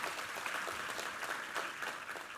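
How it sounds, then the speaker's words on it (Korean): A Sunday worship congregation gives sustained, fairly faint applause that fills the hall evenly from start to finish with no speech over it. "우리 하나님께 감사의 영광의 박수를 올려드리겠습니다"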